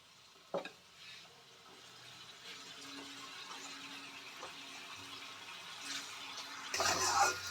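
Tomato paste sautéing in a pan for a mustard fish curry, a soft low sizzle with light stirring scrapes and a sharper clatter near the end, close by.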